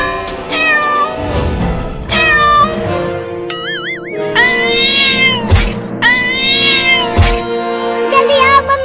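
A cat meows in a Hindi cartoon, giving several loud, drawn-out cries of rising and falling pitch. Cartoon music and effects play underneath, and a short warbling tone cuts in once.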